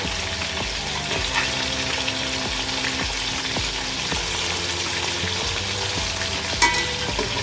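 Fish pieces fry in a pan after being flipped, producing a dense, continuous close sizzle with faint crackles and an occasional light utensil tap.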